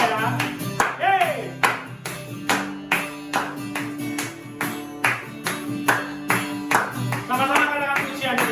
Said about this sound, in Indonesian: Tepuk tangannya semuanya ya.